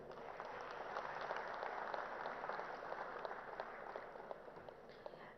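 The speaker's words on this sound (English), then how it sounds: "One round of applause, please." Audience applause at an awards ceremony in Hyderabad, a steady wash of many hands clapping continuously at moderate distance, sustained evenly without voices.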